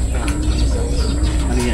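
Pigeons coo softly in low, rolling calls at a pigeon racing training toss loading site in Pagsanjan, Laguna, under steady background noise with a few faint chirps.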